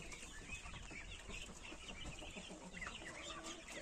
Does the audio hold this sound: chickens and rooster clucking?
yes